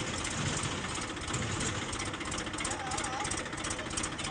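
A tractor engine runs steadily nearby on a Gujarati farm during cotton picking, a constant broadband rumble with a faint whine, without a break for the whole stretch.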